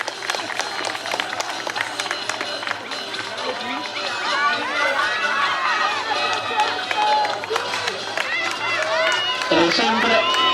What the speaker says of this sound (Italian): Un grandissimo applauso a questi piccoli rider che oggi sono qui.